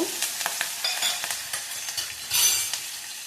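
Green chillies and curry leaves sizzling in hot tempering oil, a steady close crackle with sharp spitting pops and a louder burst of frying near the end, stirred now and then, no voices.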